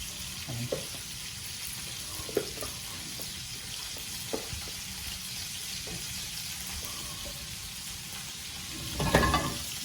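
Steak and potato bites fry in a hot skillet with garlic butter, a steady close sizzle running throughout, broken by a few stirring knocks and a louder flare of crackling near the end.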